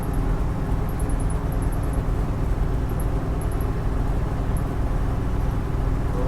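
A restored 1974 Jeep Cherokee S cruising on the road at around 53 mph, a steady low engine drone and broad road rumble holding constant throughout, with faint high chirps above.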